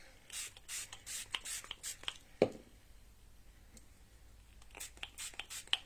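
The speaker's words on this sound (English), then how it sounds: "And you can spray as much as you like to get as much colour off as you like." Several quick bursts from a spray bottle misting water onto a watercolour painting on paper nearby, soft hissy puffs in two clusters with a light tap between them.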